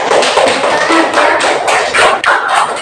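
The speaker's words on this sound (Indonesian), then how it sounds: "Ya, yuk, aplaus dulu." Applause in a classroom: a group claps steadily and loudly near the listener, dense overlapping hand claps rising and falling in small waves throughout.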